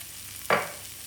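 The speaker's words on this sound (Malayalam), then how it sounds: "അപ്പോൾ ഇതൊന്ന് ഹൈ ഫ്ലെയിമിൽ വെച്ചിട്ട് ആ തേങ്ങ ചേർത്ത് ഇളക്കി കൊടുക്കുക" A pan of beans and prawns with grated coconut being stirred on high flame: a single close scrape of the spoon over a faint background sizzle.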